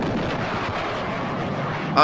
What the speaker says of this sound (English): terrible explosion made it a bad day for rocket scientists.